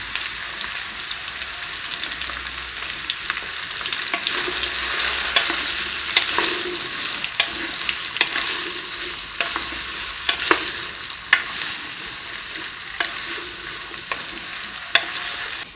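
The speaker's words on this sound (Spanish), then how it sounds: "Ahorita ya le voy a echar nopal con la cebolla porque ya está caliente la manteca." Nopal cactus and chopped onion frying in hot lard in a pan, a steady bright sizzle up close with frequent scraping stir clicks scattered throughout.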